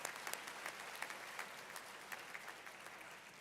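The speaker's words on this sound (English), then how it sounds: "I think we deserve a round of applause" At a university graduation ceremony, an audience in a large hall gives a round of applause, a steady, moderately distant patter of many hands clapping with no voices.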